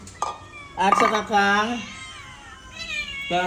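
Hungry adopted stray cats meow several times, loud and near, in drawn-out cries at feeding time, with short gaps between them and faint household clatter in the background.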